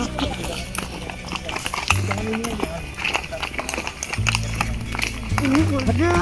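Horse hooves clop in a quick irregular rhythm on a mountain trail ride at Gunung Mas, Puncak, close and clear, while people talk over the footfalls.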